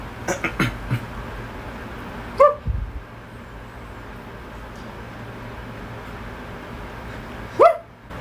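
A dog barks indoors: a few quick yips at the start, then two separate sharp barks several seconds apart, each close and clear over a low room hum.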